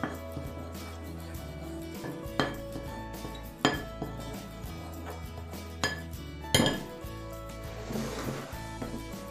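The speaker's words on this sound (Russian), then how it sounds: "Все хорошо перемешиваем ложкой." A spoon stirring flour, ground cinnamon, nutmeg and baking soda in a dry bowl for carrot cake: soft, irregular clinks and scrapes of metal against the bowl, quiet and intermittent with a few sharper knocks.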